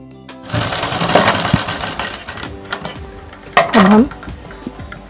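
A sewing machine stitches old blouse fabric into a scissor case, running in loud, close bursts of rapid mechanical rattling with short pauses and a few clunks between them.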